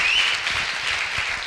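Audience applause at a TED-style recycling event, a dense, even wash of clapping from a crowd, sustained and fairly loud for a moment.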